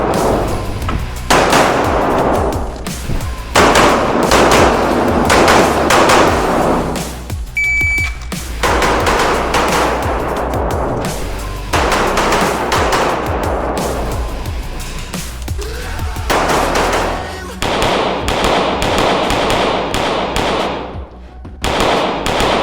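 Rapid gunfire from a VENATOR platform rifle on a medium parkour stage, loud bursts of shots separated by short pauses, with occasional metallic clangs in between.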